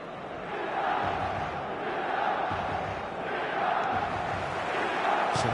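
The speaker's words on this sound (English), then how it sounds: "The stadium is full of noise and energy." Steady roar of a full stadium crowd in the eFootball video game, a dense continuous wash of voices swelling slightly at moments, with no distinct speech on top.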